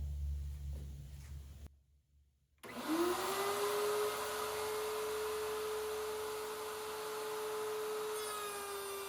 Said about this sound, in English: Now I'm about to go through and create a rabbet with the router table to fit my center panel